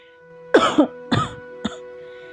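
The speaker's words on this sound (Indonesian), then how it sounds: "Xiaoyan terbatuk dan terus terbatuk." Repeated coughing from a character in a Dou Di fantasy story: three harsh, close coughs in quick succession, each shorter than the last, over a faint steady hum with no speech.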